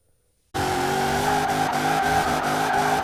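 A GMC Typhoon drifts in Forza Horizon 4, its engine roaring loud and steady with squealing tires, bursting in abruptly after a half-second of silence and holding full volume to the end.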